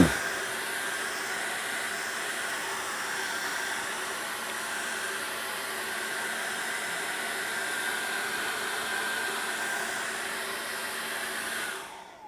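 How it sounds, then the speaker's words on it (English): A hair dryer blowing steadily on wet acrylic paint of a misty forest painting, a loud continuous whooshing hiss held for about twelve seconds before switching off. "Hello, Mr. Hairdryer."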